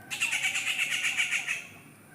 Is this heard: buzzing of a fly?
no